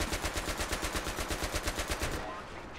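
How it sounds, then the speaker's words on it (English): Rapid automatic gunfire in Battlefield 3 on Caspian Border, a steady rattling burst of about twenty evenly spaced shots, loud and close, stopping abruptly before a brief fading tail. "I don't know who I'm shooting at"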